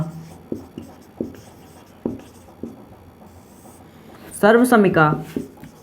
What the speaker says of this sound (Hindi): तो यहाँ लिखेंगे सर्वसमिका